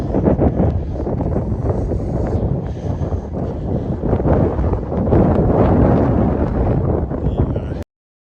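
Blizzard wind in Regina on a November day roars and buffets a microphone outdoors, loud and continuous with gusty swells, then cuts off abruptly near the end.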